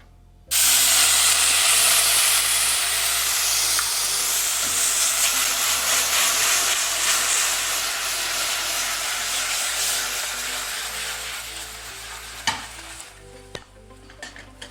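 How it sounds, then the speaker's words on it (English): Wild Turkey 101 bourbon cooks down in a pan for a homemade bourbon caramel sauce. A loud, continuous sizzling hiss lasts nearly the whole time and eases slightly toward the end, where a few sharp clicks are heard. "we've spent about 2 minutes now cooking the alcohol out of this bourbon"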